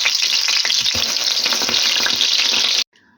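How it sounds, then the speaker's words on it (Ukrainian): Loud, steady sizzling of minced chicken cutlets frying in a pan, with a few soft scraping stirs, cutting off abruptly near the end. "І так смажу всі котлеточки."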